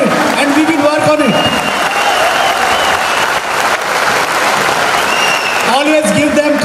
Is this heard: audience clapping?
yes